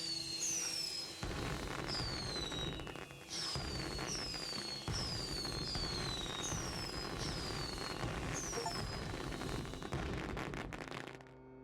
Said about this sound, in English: we could use a whole lot of explosive powder, and with it create enough fireworks to launch 10 in 10 seconds